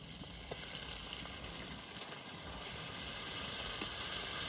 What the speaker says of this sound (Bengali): আদা রসুন পেঁয়াজ একটু ভালো করে ভেজে নেব।